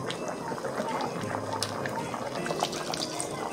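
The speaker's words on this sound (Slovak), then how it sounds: "Čiže dolejeme vodu." Water is poured into a cooking pot of stuffed cabbage rolls, making a steady splashing, gurgling trickle close by that continues for several seconds.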